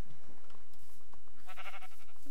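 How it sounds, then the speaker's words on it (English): Sheep in the video game Minecraft bleat in a short burst of wavering, buzzy calls toward the end, following a few quiet low thuds and faint game ambience. "Sheep at the grass."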